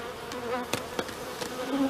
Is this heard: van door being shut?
no